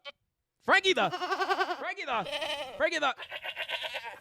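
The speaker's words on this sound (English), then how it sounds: "Those are goat sounds, I think" A goat bleats several times in close succession, each call loud, near and wavering, with short gaps between the bleats.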